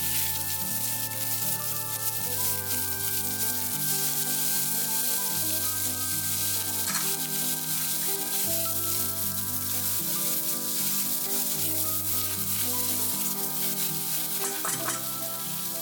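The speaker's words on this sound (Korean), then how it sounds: "버터가 녹으면 채 썬 양파를 넣고 투명해질 때까지 볶아줍니다." Sliced onions sauté in melted butter in a pot, giving a steady, even sizzle under continuous background music with a repeating bass line.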